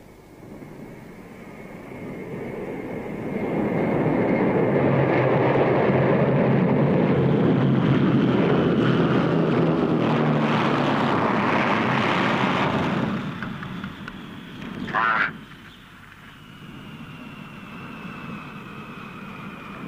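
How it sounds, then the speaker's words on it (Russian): A propeller airplane on a forced landing at an airfield passes close and loud, a sustained engine roar that swells, holds, then fades, followed by a short sharp burst near the end. "Принимаем рейс из Ленинграда! Вынужденная посадка!"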